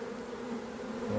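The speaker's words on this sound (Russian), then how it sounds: "И пчела начала заходить вот уже в новый улик." Honeybees from a captured swarm moving into a new hive body set beside the old entrance, a steady low buzzing drone heard alone at fairly faint level.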